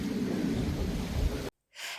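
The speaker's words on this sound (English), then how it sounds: "it started to rain" Rain beginning to fall outdoors, heard as a dense, steady wash of noise. It cuts off abruptly near the end, and a brief hiss follows.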